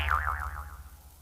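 A cartoon boing sound effect from a children's record, a single springy wobbling tone that bounces several times and fades out quickly, heard alone and close.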